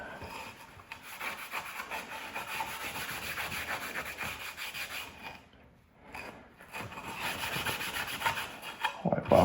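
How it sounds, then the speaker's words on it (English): A damp rag wiped over a solid walnut desktop to clear sawdust, a close, continuous rubbing swish in long back-and-forth strokes with a short pause midway. "wipe off the sawdust."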